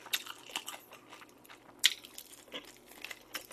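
Close, crisp bites and crunching into Pelicana fried chicken coated in grain syrup glaze with sesame seeds and peanuts, with a few sharp crackles and one loud crunch standing out amid quiet chewing.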